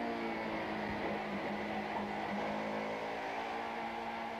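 Touring race cars from the 1994 South African Touring Car Championship at East London, weaving on their warm-up lap, heard as a steady, fairly faint engine drone from the circuit without distinct passes.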